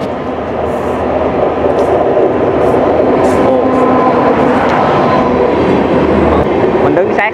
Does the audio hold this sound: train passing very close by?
yes